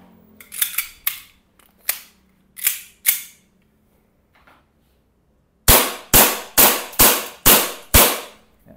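An airsoft gun fires in semi-auto, sharp single snapping shots spaced irregularly at first, then six loud evenly paced cracks in quick succession, close and alone without talk.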